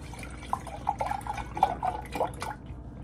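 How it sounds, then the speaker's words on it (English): Matcha latte is poured from a container into a cup, heard as a quiet series of irregular liquid drips and splashes in a calm indoor space. "I'm going to just pour half of this, half of my cup full"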